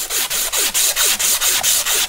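Sandpaper of 220 grit scrubs a corroded auger shaft held in a vise, with loud, close back-and-forth strokes in a fast, steady rhythm of about four per second and no talking.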